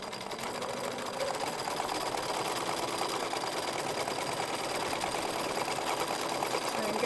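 A sewing machine stitches a free-motion embroidery outline around a box shape, its needle chattering in a fast, even, continuous rattle at close range.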